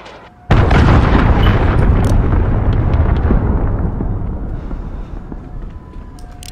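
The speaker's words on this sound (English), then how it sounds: "Missile incoming!" A single loud, close missile explosion in Call of Duty MW erupts suddenly after a quiet moment, then a long rumbling roar slowly fades away.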